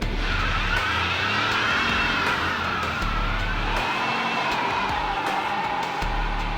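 A Ford F150 EcoBoost truck does a burnout, tires spinning with a loud, sustained wailing squeal that wavers and slides in pitch over a steady engine roar.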